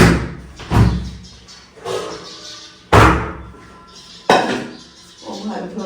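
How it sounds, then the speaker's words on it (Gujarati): Dishes, pots and utensils set down in a home kitchen, a few sharp clattering thumps spaced a second or two apart with quiet rustling between. "ઠામ હમણાં મૂકી દઈએ"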